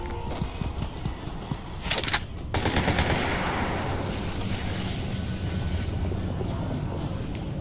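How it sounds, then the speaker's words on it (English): Gunfire in the video game Fortnite, rapid automatic bursts of shots over a dense, steady background of game noise, fairly loud with no talk over it. "Why is it as soon as I say that I hear shooting?"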